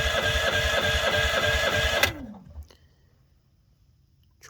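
Champion 8500 watt propane generator cranked with the gas valve off: a loud, close, rapid rhythmic electric-start churning that cuts off abruptly, followed by a brief winding-down whir, a couple of faint clunks and near quiet.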